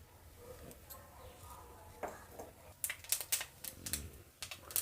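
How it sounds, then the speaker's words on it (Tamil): Mustard seeds splutter in hot oil for garlic rice, with irregular crisp pops and crackles that grow denser and sharper toward the end over a low sizzle, close by with no talking. "கடுகு பொரிஞ்சது கடலைப்பருப்பு உளுந்து பருப்பு ரெண்டையும் போட்டுடலாமுங்க"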